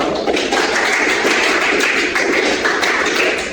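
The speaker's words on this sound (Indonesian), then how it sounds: "Beri aplaus dulu kepada kelompok 1." A classroom of students gives a group loud sustained applause, dense overlapping claps filling the room evenly for several seconds with no talk over it.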